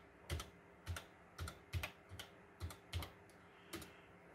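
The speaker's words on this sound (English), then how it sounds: "get a command prompt up and type ipconfig." Typing on a computer keyboard to enter a command at a Windows prompt: a short run of about nine separate, quiet key presses at an uneven pace, with no talking.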